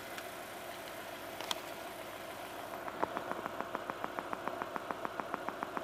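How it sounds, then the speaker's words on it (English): Car engine fuel injector picked up through a vehicle diagnostic listening device: a steady rhythmic ticking, evenly spaced and fairly quick, emerging over a low engine hum after a few seconds. "now that is quite obviously a different frequency and a different sound source completely"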